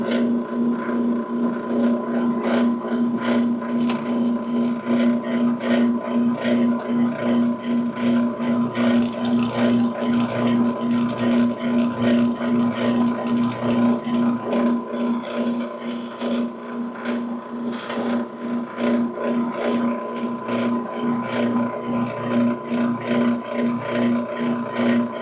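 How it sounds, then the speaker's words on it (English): A drill press bores holes in metal for a crab welding project, giving a continuous steady whine with a rattling, buzzing texture that dips briefly midway, heard alone at close range. "we got you over here on the drill press. And I'm going to drill a couple of holes"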